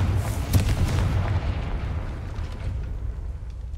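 Confringo blasting spell cast in the video game Hogwarts Legacy: a loud, deep explosive boom at the start that rolls into a long rumbling decay, fading slowly over several seconds with no voices.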